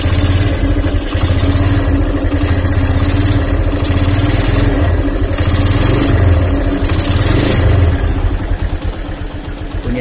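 A Honda Megapro motorcycle engine with a worn, rattling cam chain runs loud and close, a continuous idling drone with a metallic ticking clatter throughout.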